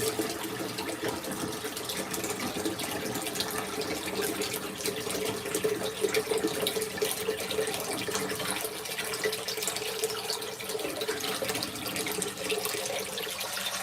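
An LG ThinQ MEGA Ultimate top-loading washer fills with water on a darks cycle, a steady rushing, splashing stream with a faint hum, continuous and fairly close with no talking.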